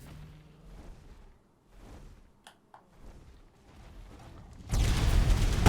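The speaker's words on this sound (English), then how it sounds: "A great big line of fire." A great line of fire unleashed in the ARK Dark and Light crossover mod game, erupting as a loud, dense roaring blast that surges in abruptly after quieter in-game rumbling and holds steady to the end.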